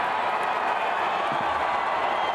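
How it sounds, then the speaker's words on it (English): A big stadium crowd at the athletics world championships in Doha on a raucous night, a steady, loud wash of roaring and cheering with scattered clapping, no break in the noise. "What a roar from the crowd"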